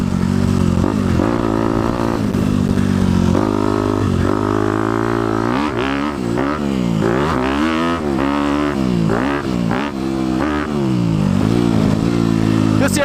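A dialed-in 2018 Honda CRF250 big-bore dirt bike engine on the move, droning loud and close for the whole stretch, its pitch rising and falling as the rider rolls on and off the throttle through the gears.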